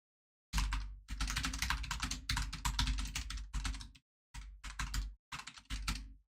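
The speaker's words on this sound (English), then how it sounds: "Just typing up the stuff to Steve real quick there" Typing on a computer keyboard, a steady run of close, loud key clatter in several bursts separated by short pauses, with no talking.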